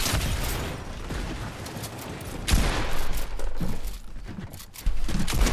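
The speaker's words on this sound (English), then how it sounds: "I finally got a good shotgun" Shotgun fired in a video game, with loud broadband blasts and crashing impacts over a busy, dense game soundscape, a sharp burst near the middle and another toward the end.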